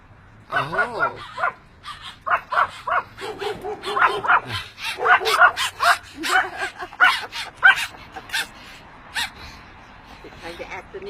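Big dogs bark repeatedly near a Santa Barbara beach in a rapid, uneven series of loud barks and yips, mixed with whimpers and a person's voice.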